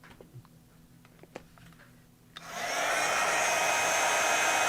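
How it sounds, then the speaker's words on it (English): A heat embossing tool switches on partway through, its steady loud blowing roar melting embossing powder on a stamped card after a few quiet taps and small handling sounds. "take another heat tool"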